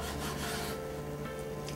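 A knife oiled with sesame oil slices through a bulgogi kimbap roll, giving a brief soft rasping cut close by, with no talking.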